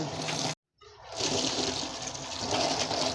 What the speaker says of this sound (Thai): ล้างเอาขี้โคลนออกนะคะนี่จะเป็นน้ำดำๆแบบนี้เลยค่ะ